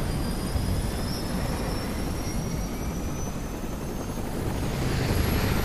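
Helicopter in Resident Evil 6, a loud, steady rotor and engine drone with a faint high whine, holding constant throughout without talk.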